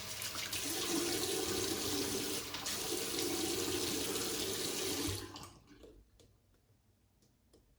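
A bathroom tap runs in a steady, loud stream while shaving soap is lathered, then shuts off after about five seconds, leaving quiet room noise with faint ticks and drips.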